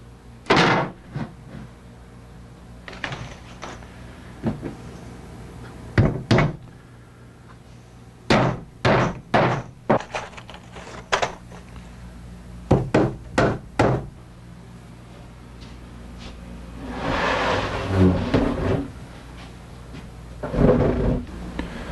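Panels being fastened onto a model structure: sharp knocks and snaps come in irregular clusters, some loud and close, with a longer rustling, rubbing stretch of handling in between.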